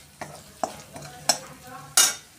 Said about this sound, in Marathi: असंच तेलामध्ये हा मसाला आपला परतवून झालेला आहे